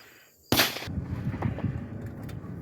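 A single sharp, loud gunshot cracks out nearby from people shooting on a range near a fishing spot, followed by a fading echo and rumbling ambience.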